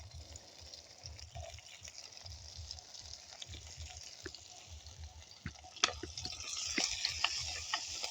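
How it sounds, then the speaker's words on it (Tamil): Small onions and garlic go into hot oil in a home kitchen while cooking a paneer curry, giving a soft steady sizzle with light clinks and stirring that grows louder toward the end, no voices. "நாங்கள் இதை எண்ணெய் கொதிச்சுட்டு இதுக்கு நாங்கள் வெட்டி வச்சுக்கிற சின்ன வெங்காயத்தை சேர்க்க போகிறோம்"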